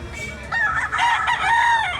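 A yellow-legged full stag rooster crows in a loud, drawn-out call that swells midway and holds to the end.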